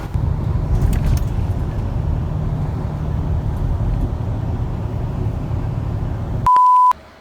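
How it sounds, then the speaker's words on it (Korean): Steady low rumble of a bus interior on the ride to Naesosa temple, a constant engine and road drone throughout, ending with a loud electronic beep tone. "내소사 가는 버스를 탔습니다."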